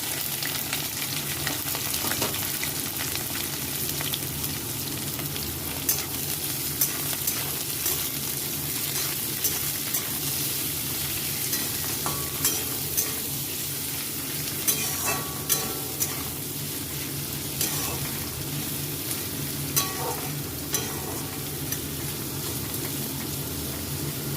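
Chopped vegetables and whole garam masala spices frying in a pan of fried rice: a continuous close sizzle with scattered light stirring clicks, no voices.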